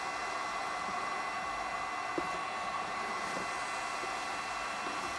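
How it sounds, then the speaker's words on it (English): Heat gun warming a car headlight, a steady hissing airflow drone with a few faint clicks and handling knocks, no speech. "I leave the heat gun on it as I take my panel tool"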